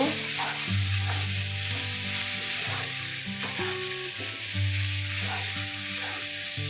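Flat beans with prawn paste and coriander leaves sizzle steadily in a pan while being stirred, a continuous moderate frying hiss layered with steady tonal background sounds.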